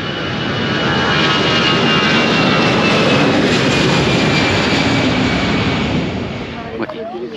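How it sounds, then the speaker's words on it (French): A close airplane engine roars loudly at an airport runway in Gibraltar in a broad, steady rumble, then eases off slightly near the end. "Et bien sûr, il y a encore un avion."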